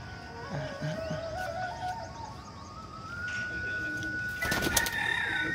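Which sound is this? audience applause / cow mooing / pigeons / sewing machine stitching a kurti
pigeons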